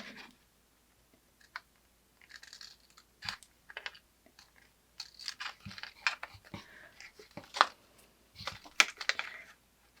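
Scissors snip paper tabs on a small handmade miniature candy box, a run of light crisp cuts and clicks, sparse at first and then quicker and closer together, heard close up with no talking.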